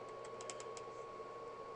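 A handful of quick, light clicks from a computer mouse or keys, faint and close, spaced in a short burst over a quiet room hum with no one speaking.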